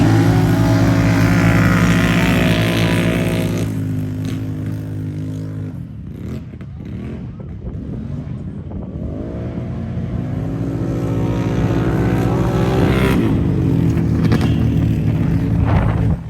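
ATV engines roar and rev at a turn-and-burn mud event at a ranch in Missouri, loud and close, dipping briefly mid-run before surging back to full throttle.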